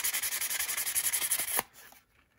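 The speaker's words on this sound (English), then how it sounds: "smooth it out a bit with some fine grit sandpaper" Fine grit sandpaper rubbing back and forth on an HO scale model steam locomotive frame, a close rhythmic scratching of quick even strokes that stops abruptly, leaving near silence.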